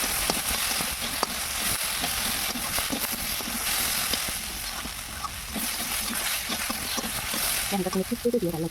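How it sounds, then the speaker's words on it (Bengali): Soybeans and vegetables are sautéed in a pan with a soft, steady sizzle and occasional stirring scrapes, fairly quiet and close, with a brief bubbling spatter near the end. "এখন সয়াবিন সহ সবজিটাকে আর একটু ভালো করে কষিয়ে নিতে হবে"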